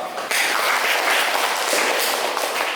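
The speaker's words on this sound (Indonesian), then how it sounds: "Mari kita beri aplaus." A classroom audience of students applauds, a steady, dense patter of many hands clapping together that stays loud and even for a few seconds.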